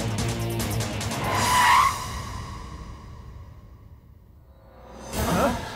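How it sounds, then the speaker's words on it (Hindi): A car tears away in an action film scene, tires squealing in a loud, close screech that quickly fades into the distance before another fast swoosh passes near the end. No one speaks. "गाड़ी भागा।"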